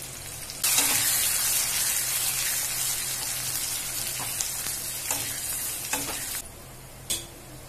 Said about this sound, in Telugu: ఆనియన్ వేసుకొని ఇవన్నీ మనకు బాగా బ్రౌన్ కలర్ వచ్చేంత వరకు వేగాలి ఆనియన్స్.